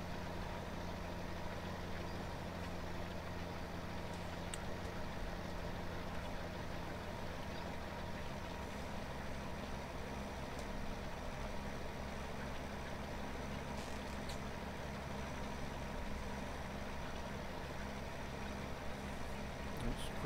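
A tractor engine runs steadily while pulling a harrow across a field, a constant low drone heard at a distance and fairly faint throughout.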